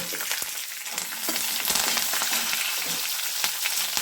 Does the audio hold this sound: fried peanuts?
yes